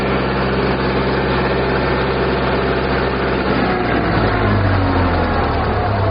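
A 45 hp tractor engine runs loud and close, a dense, steady diesel rumble whose pitch climbs slightly as it revs from idle toward 2000 RPM. No one speaks.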